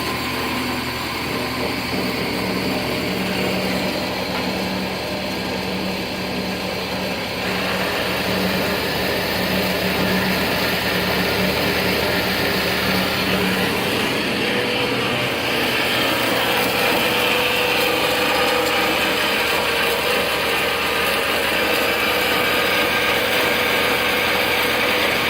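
An Ellis 1800 miter band saw running with its hydraulic down feed, a loud steady machine hum and whine that shifts in tone partway through as the cut begins.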